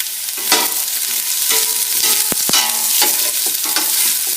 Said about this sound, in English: In goes the garlic, the celery, and the shallots and onions. I'm going to stir that around.